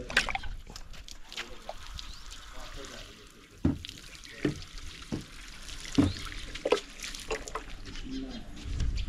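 Tap water running and splashing while two dogs are washed, with intermittent clatter and sloshing and a voice speaking faintly in the background.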